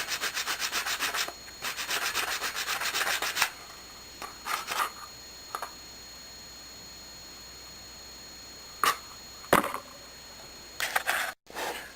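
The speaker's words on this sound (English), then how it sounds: "take a little piece of regular sandpaper and just kind of work that around a little bit there" A piece of regular sandpaper is rubbed by hand over the neck of a gas can banjo, giving quiet, close, scratchy strokes in short bursts separated by pauses.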